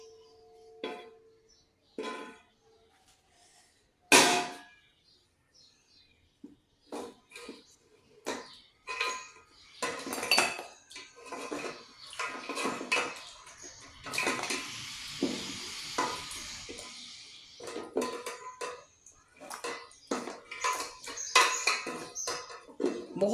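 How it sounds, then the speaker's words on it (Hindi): Cooked mutton trotters (paya) being served onto a plate, with scattered clinks and scrapes of a utensil against dishes, wet slops and clatter coming in irregular bursts, close and fairly loud, no talking. "इस वक्त मैं पाई निकाल रही हूँ।"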